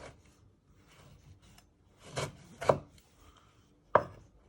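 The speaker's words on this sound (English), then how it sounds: "If you've got a big tomato, you just slice it one more time." A knife chops through a big tomato on a cutting board, giving a few distinct, close thuds spaced irregularly over quiet gaps.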